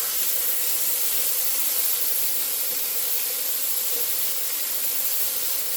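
Garlic sizzles in a hot 30cm Onyx cast iron skillet, a steady, dense broadband hiss that holds level and close for the whole stretch with no talk over it.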